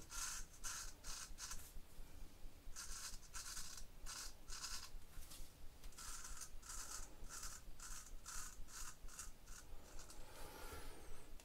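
A razor rasps across cheek stubble in a steady run of short, close strokes, each a dry scrape with brief pauses between passes, with no voices.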